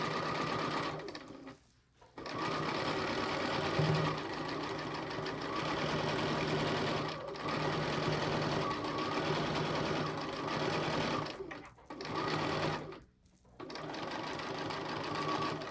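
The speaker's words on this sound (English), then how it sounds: "I'm just going to stitch along and lay the binding down as it goes" A domestic sewing machine stitches binding onto a small quilted oven mitt, a close, steady mechanical whir that stops briefly three times between longer runs of stitching.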